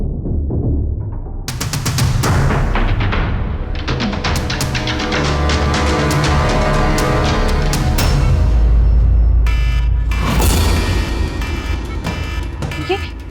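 Alarm blaring in a hospital during a televised drama scene, a loud continuous wailing tone layered over dense background music and commotion for the whole stretch.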